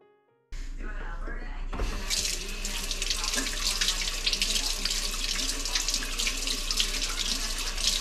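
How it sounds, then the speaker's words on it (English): Tap water runs steadily into a sink, rinsing out a pot used for homemade turkey bone broth, a constant close splashing gush after a brief quiet start, with a voice speaking faintly beneath it. "I know it's not really washing, it's just to rinse the yuck off."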